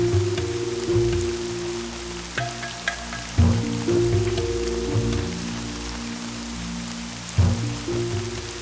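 Dense steady rain hisses without a break, with a few louder thuds and dull knocks breaking through; no speech.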